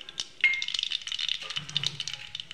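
Mustard seeds dropped into a ladleful of hot oil in a kadhai for a village-style cowpea pod stir-fry, a quick cluster of crackles and pops turning into a busy, close, sizzling patter.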